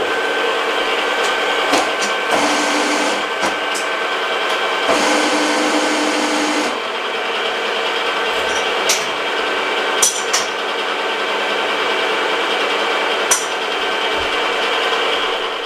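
A milling machine spindle spins an edge finder while centering on a workpiece: a steady, close mechanical whir with a constant tonal hum, broken by occasional short clicks and ticks, with no talking.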